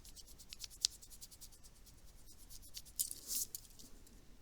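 A pen scratches out a math equation on a surface in short, quiet strokes and taps, faint and intermittent with small gaps, ending in a brief louder scrape.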